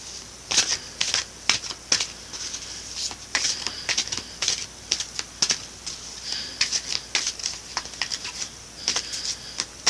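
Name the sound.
shuffling oracle cards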